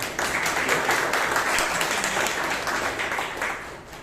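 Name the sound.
audience applause at Toastmasters meeting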